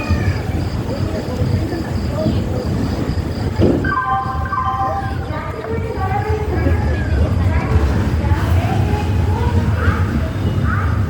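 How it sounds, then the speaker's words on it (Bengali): A Puri–Santragachi weekly special express train runs with a loud, steady low rumble throughout, while crowd chatter and faint musical chime-like tones sit on top. "প্রায় 21 মিনিট লেটে ট্রেন ছাড়লো"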